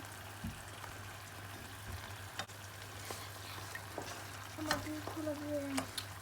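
Eggs are stirred and spread through a frying pan with tomatoes, a quiet sizzle under soft scraping strokes and scattered clicks of a utensil against the pan.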